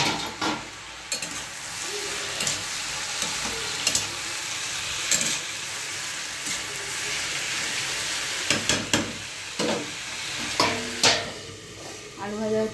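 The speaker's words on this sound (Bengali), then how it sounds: "আলু ভাজা হচ্ছে" Potatoes fry in a pan on a home stove, a continuous sizzle punctuated by scraping stirs and occasional clinks of a utensil against the pan.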